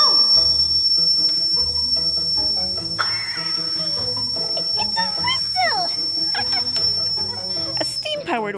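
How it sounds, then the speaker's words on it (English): A steam train whistle sounds continuously through the whole stretch as a steady high tone, with clanking, hissing and scattered background noises around it. "Powered whistle. That means there's enough steam to start the engine."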